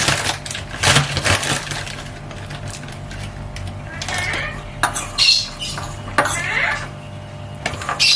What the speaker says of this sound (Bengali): এবার আমি এখানে একটু ময়দা দিয়ে এটা আগে ভালো করে মিশিয়ে নিই।